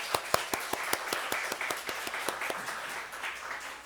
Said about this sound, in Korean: 우리 그 새가족팀 한번 힘내라고 박수로 한번 격려하도록 하겠습니다.